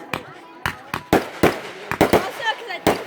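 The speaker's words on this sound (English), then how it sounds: "Because I want to see more fireworks." Fourth of July fireworks explode in a rapid irregular series of sharp, loud bangs and crackles, about a dozen bursts in three seconds, with people talking between them.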